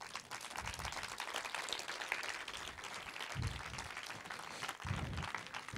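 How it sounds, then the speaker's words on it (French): An audience applauds after a film screening at a humanities and social sciences seminar, a dense, steady roar of many hands clapping that holds for several seconds at moderate loudness. "Je vois que ce film mérite à nouveau des applaudissements."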